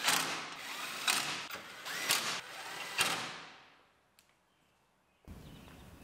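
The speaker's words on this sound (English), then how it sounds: "Now we'll put the four bolts in the top." A power tool drives bolts into the grille of a damaged 2019 GMC Sierra Denali truck, with several short whirring bursts and ratcheting clicks up close, then a pause and faint handling noise.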